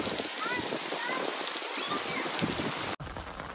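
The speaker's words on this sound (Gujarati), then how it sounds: "વરસાદ બરાબર નું આવે છે" Heavy rain pours onto a farm field in a steady, dense hiss of drops, cutting out for an instant near the end before resuming.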